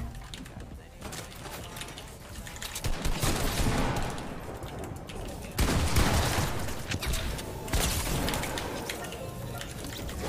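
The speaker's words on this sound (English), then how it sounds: "there's a kid with a pump shooting me" Pump shotgun fire in Fortnite, with several loud, abrupt blasts spaced a couple of seconds apart amid busy gunfire and game noise, while a person talks throughout.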